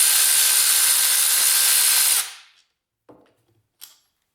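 Power tool whirs steadily for about two seconds while backing out Allen bolts holding the cylinder head on a quad engine, then winds down, followed by a couple of faint clicks and a small metallic clink.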